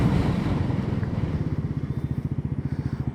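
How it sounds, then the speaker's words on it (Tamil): A Bajaj Pulsar NS400Z motorcycle braking hard from about 80 km/h, with a loud engine and wind roar that falls away into a rapid pulsing idle-like putter as the bike slows. "நான் ஒரு 80ல் போயிட்டு பிரேக் அடிக்கிறேன்."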